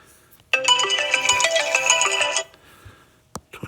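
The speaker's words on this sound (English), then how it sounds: "that was my alarm telling me it's almost time to go home" A phone alarm ringtone plays a bright, repeating electronic melody for about two seconds, loud and close, then stops abruptly.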